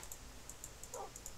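Tamed Minecraft wolves in the game making quiet, brief high whimpers that repeat in pairs over a low background hum.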